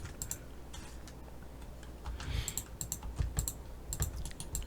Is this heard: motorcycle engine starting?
no